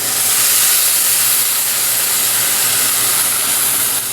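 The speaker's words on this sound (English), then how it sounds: "It's time for the tomatoes. The whole can goes right in." A whole can of tomatoes poured into a hot pan for marinara sauce sets off a loud, continuous sizzling hiss that stays strong and even from start to finish.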